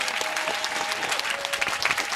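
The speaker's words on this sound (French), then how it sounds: "Lève-toi et donne une offrande d'acclamation à Jésus-Christ." Church congregation clapping in praise during a worship service, brief dense applause with a faint sustained tone beneath, steady and fairly close.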